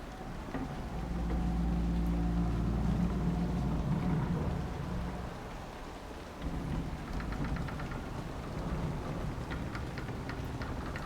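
Steady rain with a low, rolling rumble of thunder during a storm in the video game Dragon Age: Inquisition. The thunder swells and fades, and the rain keeps hissing on alone afterward.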